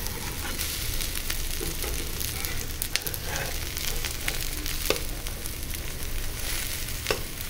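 A bread omelette flipped in a pan, frying with a loud, continuous close sizzle and crackle, broken by a few sharp clicks and taps of the spatula against the pan.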